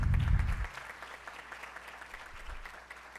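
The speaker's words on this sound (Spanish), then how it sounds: "le rindamos un fuerte y caluroso aplauso" Moderate applause from the audience at a criminology course lecture greets the speaker, a brief louder burst at the start fading into a softer, steady patter of clapping.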